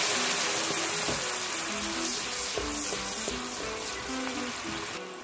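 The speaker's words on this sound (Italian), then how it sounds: "ora comincio a rosolare il guanciale" Guanciale frying in a hot pan, a soft steady sizzle and crackle with faint clinks of utensils, fairly quiet and with no talk.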